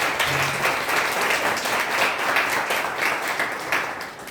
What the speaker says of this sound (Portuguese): Vamos aplaudir a poderosa palavra de Deus.